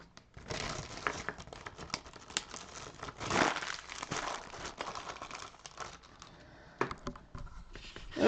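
A plastic bag is handled close up, with quiet, irregular crinkling and rustling bursts, a louder crumple midway, and small taps in between.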